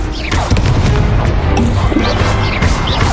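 Confringo spell blasts from the game Hogwarts Legacy boom and crash continuously at close range, loud and dense, with whooshing effects layered over a rumbling low end.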